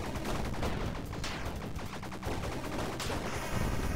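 Rapid gunfire in the action video game Bleed, dense repeated shots with sharp cracks at a steady fast rhythm, loud and continuous with no talking over it.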